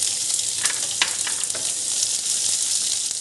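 Fennel seeds, green chili and garlic fry in hot oil for an onion kachori filling. They crackle with a close, steady sizzle and scattered pops throughout, with no voices.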